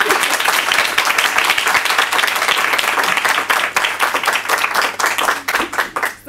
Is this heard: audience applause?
yes